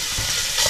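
A brief burst of loud sizzling and crackling as bacon fries in a hot pan on a wood-burning stove, close up.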